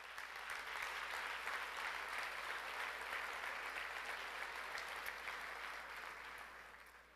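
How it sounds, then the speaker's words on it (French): Audience at the Victoriaville mayor's dinner conference applauds warmly, a steady, dense wash of clapping that holds for several seconds and then begins to fade. "Je pense qu'on peut les applaudir chaleureusement."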